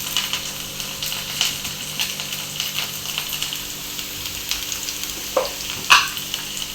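Curry leaves crackle and sizzle in hot oil, a close, steady frying hiss marked by scattered pops and a couple of sharper spits toward the end.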